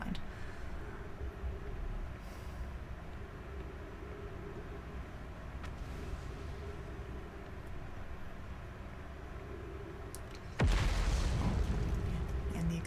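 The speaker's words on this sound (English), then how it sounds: "And the explosions, always with the explosions, the impact" Explosions in the Outer Wilds video game: a low, steady rumbling drone runs throughout, then a single loud, sudden blast bursts in near the end and keeps roaring heavily to the close, with no talking.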